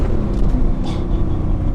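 A manual Mercedes C55 AMG engine revving, a deep, rough, loud rumble that swells briefly and settles, heard close up without talk.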